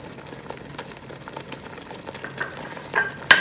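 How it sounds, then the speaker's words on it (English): Mint and coriander leaves drop into a frying chicken biryani pan, a soft bubbling sizzle with light stirring scrapes that builds to a sharper crackle and clatter near the end, with no voices. "At this point I will add, I have mint and also coriander leaves, that I will add it like a half."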